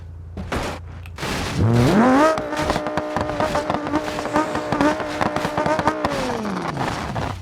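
A car in the driving game BeamNG.drive brakes hard on rocky ground with a damaged wheel. A loud tire screech swells and holds for several seconds over engine noise, then fades.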